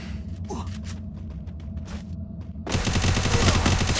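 Gunfire in the video game Free Fire starts as a dense, loud automatic burst partway through and continues steadily to the end, following a quieter stretch of game sounds.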